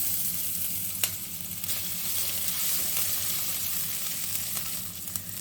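Grated ginger hitting hot oil in a frying pan for veg spring rolls, a continuous close sizzle with faint stirring scrapes and a couple of sharp ticks, no voices.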